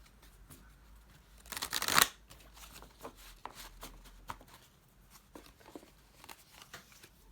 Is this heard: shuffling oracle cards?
yes